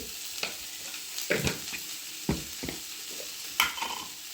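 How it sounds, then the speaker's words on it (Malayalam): Onions sautéed in a pan with coriander powder, turmeric powder and salt: a soft, steady sizzle broken by several sharp spoon scrapes and stirring clatters, close and fairly quiet, with no talking. "പൊടിയുടെ പച്ചമണം മാറുന്ന നമുക്കൊന്ന് വഴറ്റി കൊടുക്കാം."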